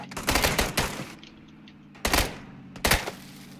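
Player's gun firing in PlayerUnknown's Battlegrounds, a rapid loud burst of shots followed by a pause, then two more short sharp volleys, close and alone without talk.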